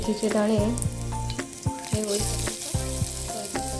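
Fenugreek seeds crackling in a small amount of hot oil for a broccoli bhaji, a close sizzle heard beneath a strong tonal hum and background sound.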